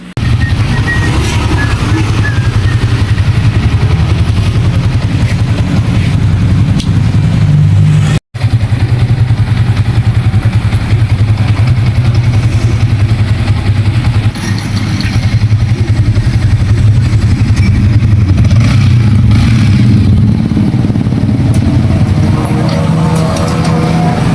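A Suzuki Raider/Sniper 155 motorcycle with a starter problem runs continuously up close with a low, steady rumble and some mechanical clatter, briefly cutting out once, with no voices over it.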